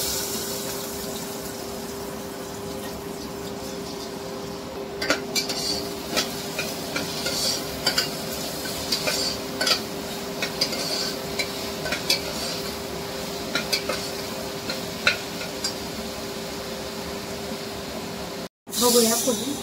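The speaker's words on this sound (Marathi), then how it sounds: "ते सगळे कांदे टाकणार." Chopped onions fry in oil inside a pressure cooker with a steady, close sizzling hiss, broken by frequent light scrapes and clicks of stirring, while someone talks throughout.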